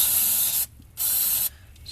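Aerosol throttle body and air intake cleaner sprayed into the throttle body of a 2005 Mazda MPV, two loud close hissing bursts of about half a second each, separated by brief quiet gaps.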